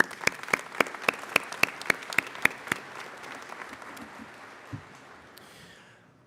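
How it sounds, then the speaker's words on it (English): A graduating class and audience applaud at a college commencement ceremony, sharp distinct claps ringing out in a hall for a few seconds before fading into a low murmuring room. "Can we give that a round of applause?"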